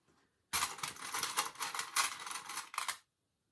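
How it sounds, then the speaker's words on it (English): Layers of trench coat fabric rustle and crinkle as they are handled and pinned together, a loud close burst of dry scratchy friction lasting about two and a half seconds before stopping abruptly. "Excuse the rustling."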